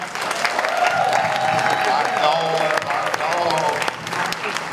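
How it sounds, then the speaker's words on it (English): A room full of people claps together at an evening event honoring Omari Dillard, steady and fairly loud throughout with scattered cheers, while a voice speaks briefly over it. "A quick round of applause for the person who put this all together, Mr. Marcus Not Black."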